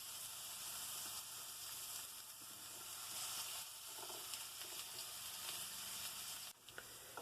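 Onions for a red curry coconut sauce sizzle in a pan, a steady hiss that fills the whole stretch, faint and even, ending with a soft clatter; no one speaks.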